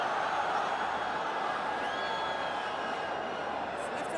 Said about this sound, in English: Crowd right into this as well.